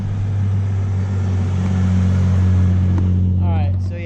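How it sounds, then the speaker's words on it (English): A loud 2020 race truck engine drones with a deep, steady, close-up hum that swells slightly mid-way, and a voice breaks in briefly near the end. "This truck's gonna be loud"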